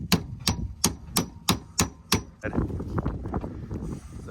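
Hammering wedges in to mount a seized part: seven sharp, evenly spaced metallic blows ring out close by, followed by a rougher stretch of scraping and knocking.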